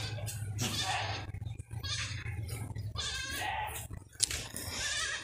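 Several goats bleat in a loose, overlapping series, close and fairly loud, over a steady low hum.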